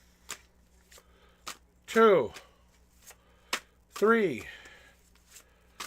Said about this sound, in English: Here are your 6 official shuffles